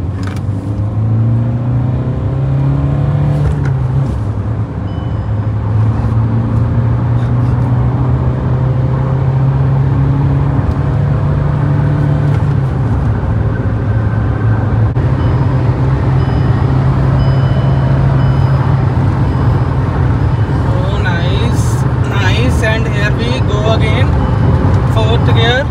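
Kia Sonet HTX 1.5 diesel with manual gearbox accelerating at full power on a top speed run, a loud steady engine drone whose pitch climbs and dips through gear changes, with cabin voices talking over it.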